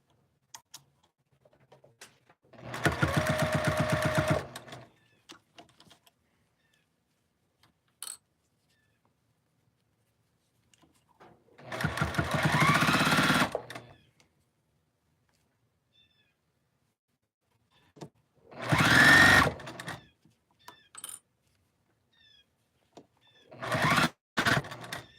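Home sewing machine stitching pajama fabric, running in four separate loud whirring bursts of a couple of seconds each, with quiet gaps and small clicks between them.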